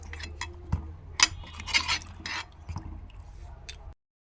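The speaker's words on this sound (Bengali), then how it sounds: "আমগুলোকে ধুয়ে নিয়েছি সুন্দর করে।" Mangoes being washed in water make close, soft splashes, squishes and drips in irregular bursts. The noise then stops abruptly into silence.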